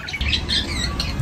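A short, harsh squawk from a pet African lovebird rings out close by over a rumbling background.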